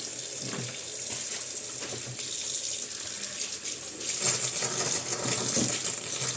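Bean leaves are rinsed under a running kitchen tap, a steady close splash of water that grows louder and fuller in the last couple of seconds.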